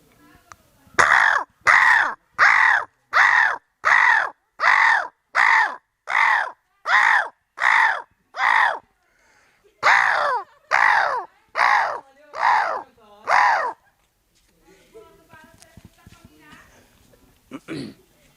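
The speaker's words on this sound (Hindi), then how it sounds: "अभी कुछ कौवे दिखने शुरू हो गए हैं" A long run of harsh, evenly spaced caws, about fifteen loud calls in steady rhythm, then quieter scattered noise and a faint call at the end.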